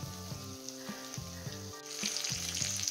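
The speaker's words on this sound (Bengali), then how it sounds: "এবারে এটাকে ভালো করে নাড়াচাড়া করব" Grated garlic sizzles steadily in hot oil in a pan while it is stirred, with a rhythmic scraping every half second or so that swells louder toward the end, close by and with no talking.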